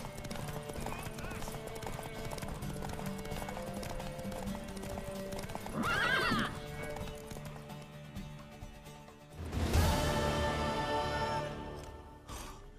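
A horse in The Witcher 3 gallops with steady clip-clopping hooves and gives a couple of close, loud neighs, set against game music and ambience.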